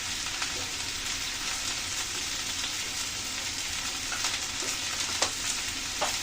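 Cabbage with salt and ginger paste frying in a pan while it is mixed, a continuous soft sizzle with occasional scraping stirs and light clicks.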